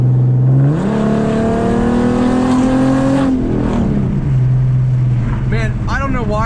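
Car exhaust fitted with an idle chop mod, idling with a low lumpy note before revving up, holding a higher pitch, then settling back to idle; loud and close, with a voice speaking near the end.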